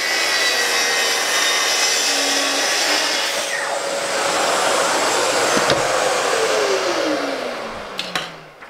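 Track saw cutting a bookcase panel along a guide rail, a loud steady whining roar that holds for about eight seconds, then the motor winds down at the end.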